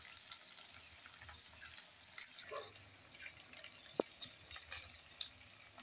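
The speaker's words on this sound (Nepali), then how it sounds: "चटट्ट पड्केर पटपट पटपट गरेर अलि भुट्नु पऱ्यो" Goat meat fries in a pan with spices, giving off soft, scattered crackles and pops against a quiet background, with one sharper snap near the middle.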